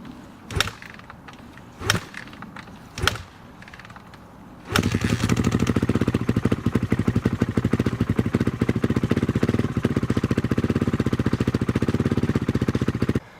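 Dirt bike engine idling, first three sharp clacks as it is kicked over, then a steady, loud, rapid-firing idle that runs close until it stops at the end.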